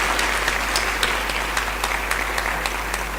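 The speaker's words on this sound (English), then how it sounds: "He deserves this clapping" Steady applause from a conference audience honoring a doctor, dense continuous clapping filling the hall at a moderate, even level with no talk over it.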